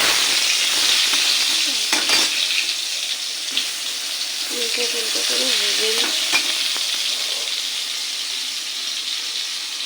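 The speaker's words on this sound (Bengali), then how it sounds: "খিচুড়ির সঙ্গে বেগুন পোড়া ভালো লাগে না ভাজাটাই বেশি ভালো লাগে তো ভেজেই নেব" Eggplant slices fry in a wok with a steady, loud sizzle that fills the whole stretch, with a few brief clinks and faint voices in the background.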